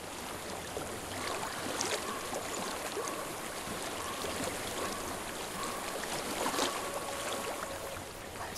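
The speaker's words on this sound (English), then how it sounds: "I hear water. Go to it." A flowing stream in the video game Hellblade: Senua's Sacrifice makes a continuous, even rush of water that fills the scene at moderate loudness, with no voices.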